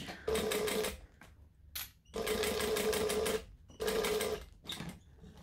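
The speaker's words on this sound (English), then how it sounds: "so now I'm going to stitch them" A sewing machine stitches backpack fabric in three loud, close bursts of rapid mechanical whirring and clatter, separated by short pauses with faint handling noises.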